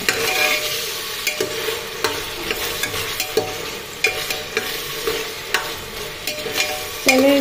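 Chicken mandi ingredients are fried and stirred in a pan with a spoon, giving a close, steady sizzle with regular scraping strokes and no speech.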